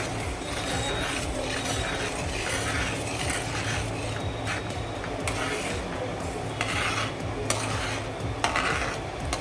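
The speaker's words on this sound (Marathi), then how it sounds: "तांदळाचा रवा घातल्यानंतर हे सतत ढवळत राहायचं" Rice semolina being stirred nonstop in a pot of jaggery kheer, a steady close scraping and rubbing of a spoon against the pan bottom, continuous and fairly even with no talk.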